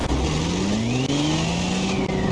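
A 3.6-liter supercharged V6 in a 4-wheel-drive car in BeamNG.drive revs hard: a loud, close engine roar with a high supercharger whine that rises steadily in pitch.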